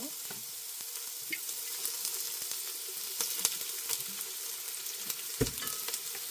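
Half an onion frying in rapeseed oil in a pan gives a steady, close sizzle and crackle, with occasional stirring clicks and a soft clunk near the end, and no voices.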